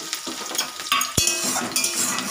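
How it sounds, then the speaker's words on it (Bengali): Sliced onion and green chilli fry in oil with panch phoron, sizzling briskly while a spatula stirs and clinks against the pan in short bursts. "পাঁচফোড়ন দিয়ে দিলাম, দিয়ে পেঁয়াজ আর কাঁচা লঙ্কা দিয়ে দিচ্ছি"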